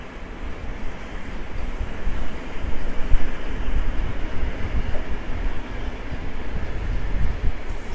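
A train hauled by EP07 electric locomotive EP07514 pulls into Warszawa Wschodnia station about 80 minutes late, giving a steady, close rumble of wheels and cars that holds throughout without pause or voices.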